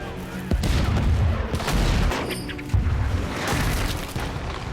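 Heavy cannon and artillery fire aimed at British ships at sea, repeated deep booms overlapping in a dense, rumbling barrage, loud and close.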